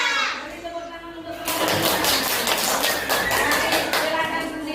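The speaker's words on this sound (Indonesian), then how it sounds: "Beri tepuk tangan untuk" Classroom applause from a group of students, a dense burst of clapping that starts abruptly and stays loud and steady, with children's voices mixed in.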